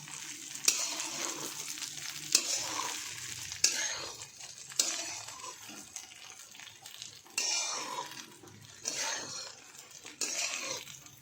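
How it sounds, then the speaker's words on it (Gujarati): Stuffed okra (bhindi) frying in a pan, stirred with a utensil: a soft continuous sizzle broken by several sharp clinks and scrapes against the pan at irregular intervals, close and moderately quiet, with no talking. "હવે આ રીતે થોડા હલાવી કાઢીશું"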